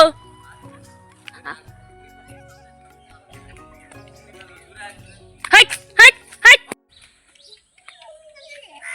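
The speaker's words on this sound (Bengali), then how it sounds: "চলো দেখি এখন তাড়াচ্ছে মুরগি" A chicken squawks and clucks in three loud, frantic bursts while being chased, amid rustling movement and background commotion.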